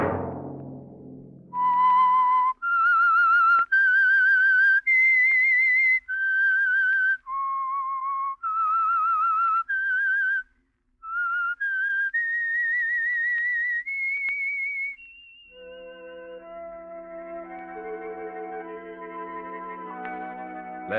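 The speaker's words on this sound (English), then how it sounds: "Let that whistle be your signal" A melodic whistled tune of sustained, sliding notes with heavy echo, the signature whistle of a 1947 radio drama, ending in a distorted, buzzing electronic tone.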